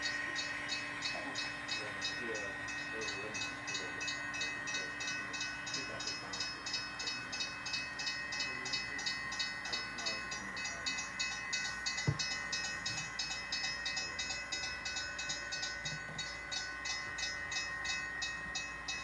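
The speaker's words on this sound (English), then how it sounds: "the opposing train moved forward" A 1970s Pacific Northwest freight train rolls forward past a rail yard, with a steady mechanical rumble and a continuous hiss. Wheels click and clank rhythmically along the rails, and a single sharp thump comes midway.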